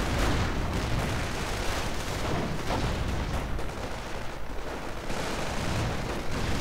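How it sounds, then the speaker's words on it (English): A dense, continuous barrage of gunfire and grenade blasts rumbles from a World War II strategy video game battle, with booms and cracks layered into a constant loud roar. "Panzerschrecks are plenty, firing away at this headquarters"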